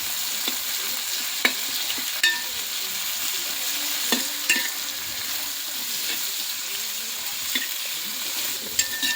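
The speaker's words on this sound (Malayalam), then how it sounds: "സവാള ഇനി നമുക്ക് നന്നായി മിക്സ് ചെയ്ത് കൊടുക്കാം" Onions frying and being stirred in a pan for mutton curry, with steady sizzling broken by repeated scraping, clinking stir strokes at close range, no talking.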